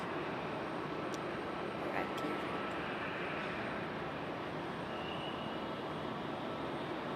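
Icelandair passenger jet arriving from Reykjavik at Raleigh-Durham airport, a steady broadband engine roar held at moderate distance throughout with no clear rise or fall.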